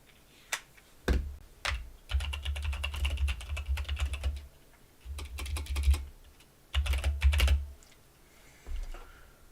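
Quick bursts of typing on a computer keyboard come in irregular flurries of close, crisp key clicks separated by short pauses, with a low thumping hum under some bursts.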